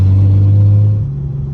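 A BMW 335i with a big single turbo running 26 psi of boost and rolling anti-lag pulls hard in second gear, a loud steady engine drone that drops in pitch near the end as the revs fall away.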